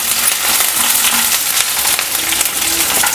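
Crushed garlic cloves, skins still on, frying in a pan of hot oil with a steady, close crackling sizzle that runs throughout, a few clinks and stirring sounds on top.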